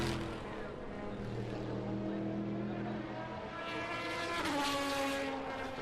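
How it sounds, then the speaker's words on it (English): Aston Martin and Corvette race cars passing at Le Mans, engines droning and rising as they sweep by at a distance in a steady stream, fairly faint, with no talk. "Mainly the Astons going past and the Corvettes"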